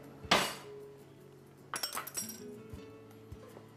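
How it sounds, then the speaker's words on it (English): A small spoon clinks against a Turkish coffee cup: one bright ringing tap, then after a pause a quick cluster of lighter clinks and rattles, close and alone with no talk. "let me find myself a small spoon"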